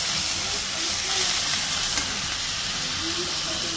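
Steady sizzling hiss of about a spoonful of garlic paste frying with onions in a hot pan, continuous and close, with faint stirring underneath.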